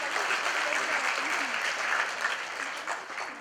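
Church congregation breaking into sustained, dense applause, a full steady roar of many hands that tapers slightly toward the end.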